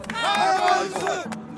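A crowd of citizens at an outdoor political rally shouts and chants together, many loud voices merging into a sustained, swelling roar that fades slightly toward the end.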